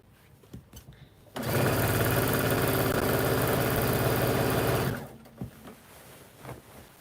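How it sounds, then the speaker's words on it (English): A sewing machine stitches cotton fabric in one steady, loud, close run of about three and a half seconds, with quieter handling sounds before and after. "I'm sitting here sewing this"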